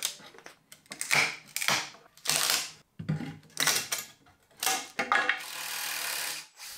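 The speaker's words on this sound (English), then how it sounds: "I'm actually just gonna have to attack this with a pry bar and maybe a saw to get these sides off" A pry bar forces apart the wooden sides of a workbench, making a close series of sharp cracks, creaks and scraping bursts separated by short pauses.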